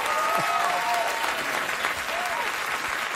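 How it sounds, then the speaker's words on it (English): A studio audience on a late-night talk show breaks into steady, full applause that holds at an even level throughout, with a faint whistle or voice rising above the clapping. "if you say to an audience you won an award, they will give you a round of applause"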